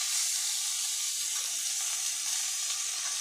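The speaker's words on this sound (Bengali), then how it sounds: "এখন আমি এই পুরিটা নিয়ে তেলে দিয়ে দিব।" Puri dough frying in hot oil, a steady bright sizzle and hiss that holds evenly and fairly loud throughout, with no talking.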